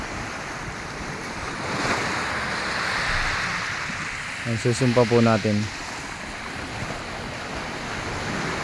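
Sea waves surge against a rocky shore where water spouts from a hole in the rock like a whale's blowhole. The wash is steady and roaring, with a brief stretch of talk over it.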